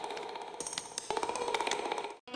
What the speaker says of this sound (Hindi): अरे जेठा जी का फोन।